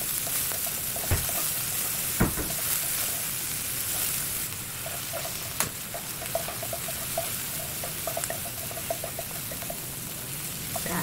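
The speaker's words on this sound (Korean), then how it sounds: "팬이 달궈지면 올리브유 한 스푼 정도 넣어주세요. 간을 넣고 볶아줄게요." Olive oil sizzles steadily in a hot pan as liver is stir-fried for a cold-rice mushroom cream risotto, a constant crackling hiss with a few sharp clinks of a utensil against the pan.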